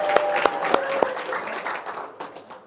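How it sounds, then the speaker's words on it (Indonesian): A seated audience at an RDAY gathering bursts into applause, with a few sharp louder claps standing out early before the crowd's clapping thins and fades away toward the end. "Tepuk tangan dong."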